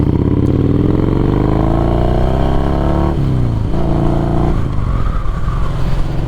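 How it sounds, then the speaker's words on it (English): A big truck passes close by with a loud, rising engine roar and a falling pitch as it goes past, heavy droning continuing afterward as it pulls away. "Big truck coming."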